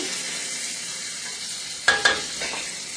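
Food sizzling in hot frying oil beside peppers, a steady hiss with a couple of sharp clatters of stirring near the end, with no talk.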